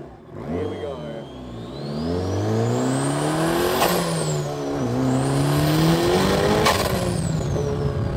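A car engine in a private collection warehouse revs hard and loud close by, rising and falling through two big sweeps with a strained, whirring climb between them, and no talking over it.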